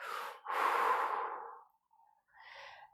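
Slow, deep breathing while relaxing into a knee exercise for knock knees: a long audible exhale, a brief pause, then a softer second breath, close and clear with no talking.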